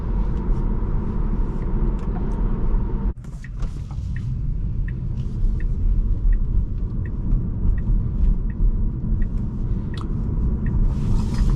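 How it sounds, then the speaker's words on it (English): Road noise inside the cabin of a 2020 Tesla Model 3 Performance on a test drive: a continuous low rumble and tire roar with faint rattles and clicks, a brief dip near the third second, no talking. "I do hear a good share of road noise, so it's not a very isolated cabin."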